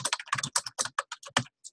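Rapid, uneven clicking of computer keys, about a dozen quick strokes in bursts, close and clear with no talking.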